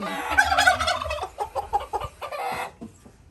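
Turkey gobbling at a poultry market in Chitwan, a run of loud, close rattling gobbles in quick bursts that trail off toward the end.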